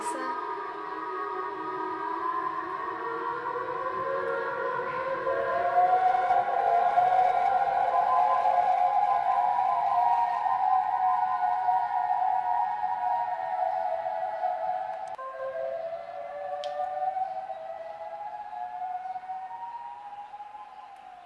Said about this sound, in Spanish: el sonido era de una sirena que se descompuso